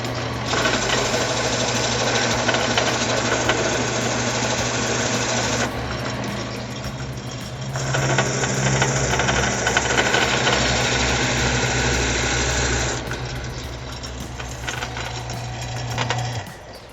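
A homemade powered sanding rig built around a threaded rod, running as a loud continuous motor drone with a rapid buzzing chatter, easing slightly partway through and then surging again before fading near the end.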